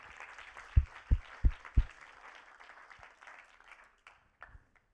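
A church congregation gives faint, distant applause for the Lord during a Christian sermon. A few low thumps come early, and the soft patter fades away over a few seconds.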